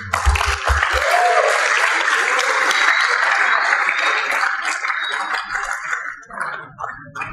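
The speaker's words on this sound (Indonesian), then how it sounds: "Tepuk tangan kepada Dia." Large audience of new students at a university campus orientation applauds in a broad, sustained roar of clapping that tapers off near the end.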